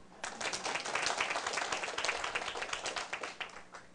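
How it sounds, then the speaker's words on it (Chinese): An audience at a lecture session claps together, crisp individual hand claps blending into a lively, rhythmic patter that builds quickly and holds steady before tapering slightly at the end. "当然嘛，拍手啊！"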